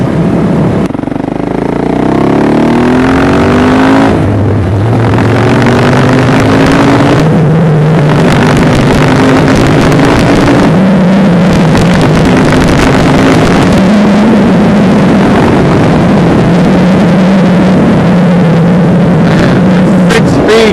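A KTM 690 SMC single-cylinder motorcycle ridden on the road, its loud engine droning up through the gears with repeated rising revs and shifts, close and continuous, under heavy wind rush.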